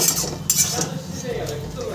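Metal utensil scraping and clinking against a pan while red and green stem amaranth greens with shrimp are stirred and fried, a few close clanks early then softer continuous stirring.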